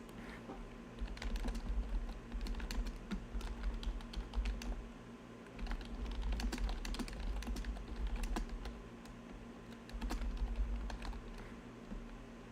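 Fingers type quickly on a non-backlit computer keyboard in a dark room, giving steady bursts of soft, close key clicks with brief pauses between runs.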